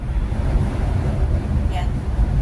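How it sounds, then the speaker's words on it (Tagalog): Steady wind buffets the microphone at Ocean Park Hong Kong, a loud continuous low rumble and hiss with no breaks. "So, mahangin-hangin kasi."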